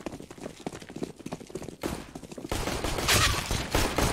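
Rapid bursts of gunfire ring out in a first-person shooter game match, dense and continuous with overlapping shots and clattering effects building louder toward the end.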